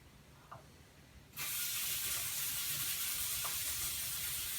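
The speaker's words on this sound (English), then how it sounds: "I just spray it the same way I did the cleaner, where I can hit all the links on the top" A steady aerosol hiss of chain lube sprayed onto a motorcycle chain starts abruptly and runs continuously, close and fairly loud, after a quiet moment.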